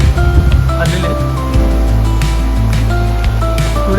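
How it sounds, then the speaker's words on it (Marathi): Loud rushing water near a waterfall after rain in a village, a constant heavy roar with low engine-like hum and scattered tones mixed in. "पुढे बघा धबधबा, इकडनं पाणी निघत होते"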